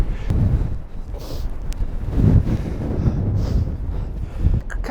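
Strong wind buffets the microphone outdoors over a misty landscape, a continuous low rumbling roar with gusty swells throughout.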